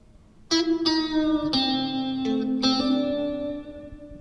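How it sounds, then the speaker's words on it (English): An electric guitar rings through a Fender Champion 50XL amp with reverb plus chorus engaged, five plucked notes and chords sustaining with shimmering, swirling tails that overlap and slowly fade. "there's actually a reverb plus chorus just above the off level here"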